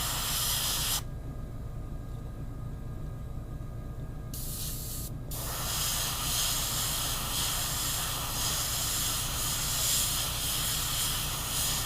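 An airbrush sprays a coat of paint onto a miniature skeleton knight figure in a loud, close, continuous hiss, broken by a few seconds of pause with a short burst before spraying resumes steadily.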